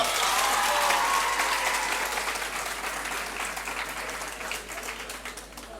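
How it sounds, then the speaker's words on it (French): Sustained applause from an audience at a high school quiz competition, dense and loud at first, then gradually thinning and fading over several seconds, with a hint of crowd voices mixed in. "On applaudit très très fort, s'il vous plaît."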